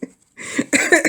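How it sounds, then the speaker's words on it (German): A single short, sharp cough bursts out at the start, followed after a brief pause by rough throaty vocal sounds close to the microphone. "dieser Husten."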